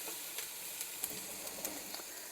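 Onions sizzling steadily in a pot on a stove that has just been turned down a little, a dense even crackle with small pops scattered throughout, close up and with no talking.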